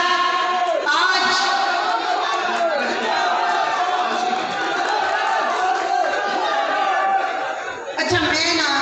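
A large crowd at a traders' convention rally in Hafizabad, Pakistan roars and chants slogans in unison, loud and sustained throughout, with a dip and a renewed surge of voices near the end.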